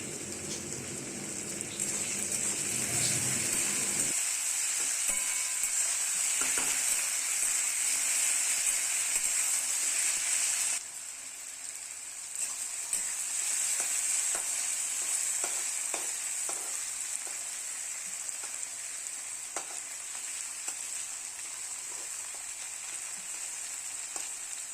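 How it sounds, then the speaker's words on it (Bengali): Potatoes frying in a pan give off a continuous hissing sizzle, with occasional stirring clatter, and no one talks. "আলুটা দিয়ে অনেকটা ভাজা ভাজা করবো"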